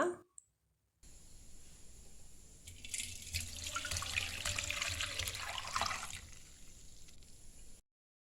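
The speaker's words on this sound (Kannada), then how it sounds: "ಈಗ ಕುದಿಸಿದಂತಹ ನೀರನ್ನೊಮ್ಮೆ ಶೋಧಿಸಿಕೊಳ್ಳುವ" Boiled hibiscus-flower water pours and splashes steadily through a strainer into a container for several seconds, with light clinks mixed in, then stops abruptly.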